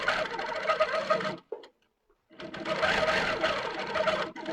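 Longarm quilting machine stitching through a quilt during free-motion quilting, with a fast steady whirring hum close by that stops briefly for about a second before starting up again.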